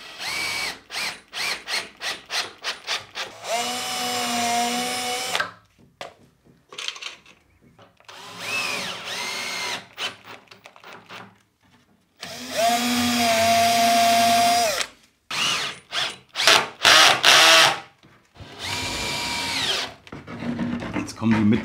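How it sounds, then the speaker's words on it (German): A power drill whirs in several long bursts into wood while building a shelf in a tight spot, with rapid ratcheting clicks and short stop-start pulses between the runs, close by. "Kann ich nicht gerade bohren."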